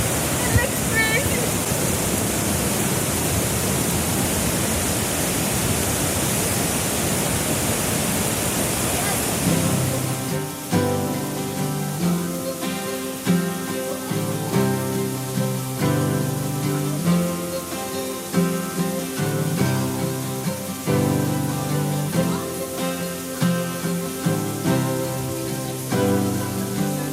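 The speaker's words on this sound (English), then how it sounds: "The hot water is just flowing out of the wall." Hot spring water pours out of a rock wall in Taiwan, a steady loud rushing wash for about ten seconds before music takes over with the water still faintly beneath it.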